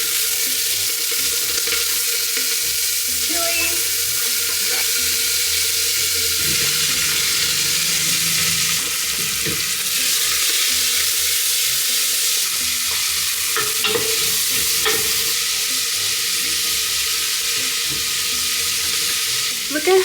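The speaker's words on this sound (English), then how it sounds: "It's sizzling and I think it's actually kind of burning." Onions, garlic and chili frying in hot oil with cumin, starting to catch and burn, a loud continuous sizzle with stirring scrapes throughout and no one speaking.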